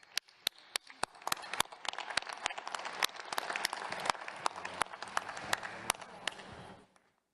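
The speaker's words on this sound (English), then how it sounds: "Can we get a round of applause?" A round of applause from an assembly audience fills the hall, with scattered sharp claps standing out over a steady wash of clapping that ends abruptly.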